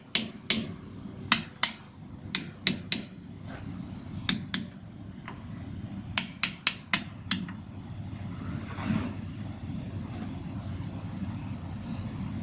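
A small hammer taps parts into place while a new cylinder head is fitted on an Austin Healey 100/4, giving about fifteen sharp, close metallic knocks in irregular bursts over a quiet workshop background.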